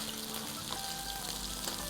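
Tilapia fish frying in a pan of hot oil, giving a steady, close sizzle with soft crackles that runs through the whole moment, with no voices.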